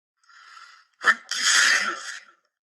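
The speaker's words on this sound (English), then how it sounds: "I huffed and I snuffed and I sneezed once again." A single wet sneeze bursts out after a short sharp inhale, close and fairly loud, then trails off.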